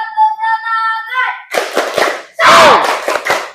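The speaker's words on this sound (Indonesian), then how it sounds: "Tepuk semangat." A school class in a classroom performs the rhythmic tepuk semangat clapping chant. A sustained tone comes first, then bursts of loud group clapping with children's voices shouting in rhythm, close and energetic.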